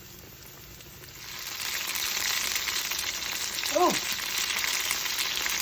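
Vegan banana blossom fish from Upton's Naturals frying in hot grease, a steady, fairly loud sizzle that swells after the first second and holds, with a brief spoken exclamation partway through.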